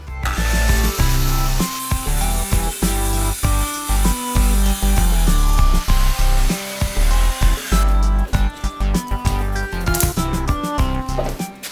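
A loud power saw whines steadily as it cuts through a plywood sheet along a guide rail, running continuously before winding down near the end.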